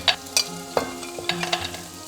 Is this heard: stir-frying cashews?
yes